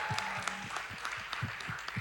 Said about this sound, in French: Est-ce qu'on peut encore faire du bruit pour elle?